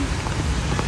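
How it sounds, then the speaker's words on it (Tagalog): Heavy rain pours down in a steady, dense hiss, close by and with no voices. "Ang lakas ng ulan."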